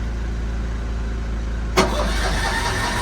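Denyo 140GSS engine welder salvaged from a scrapyard, idle background hum until a sudden engine crank kicks in partway through, then a rough churning run-up that does not settle into a clean start.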